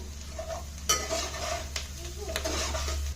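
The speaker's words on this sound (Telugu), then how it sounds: "అండ్ ఇప్పుడు మనం దీంట్లో కరివేపాకు యాడ్ చేయాలి." Curry leaves hitting a hot pan for boiled egg fried rice, a close, bright sizzle with stirring scrapes and a couple of sharp utensil knocks against the pan.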